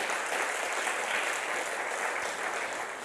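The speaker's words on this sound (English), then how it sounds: "Keep clapping like you got big energy today." A church audience claps their hands together in a dense, energetic, continuous burst of applause, fairly loud and steady for the whole moment with no clear speech.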